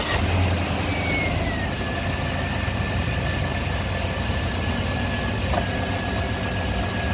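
Chevrolet Suburban 5.3L V8 running steadily and loud up close, a thin whine sliding down early on over a constant engine drone with no pauses.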